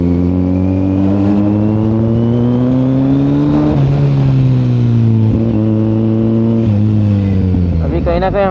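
Kawasaki Z900 motorcycle engine running loud and close, its steady exhaust note rising slowly then stepping down, with a brief rev blip near the end; the bike has an exhaust leak.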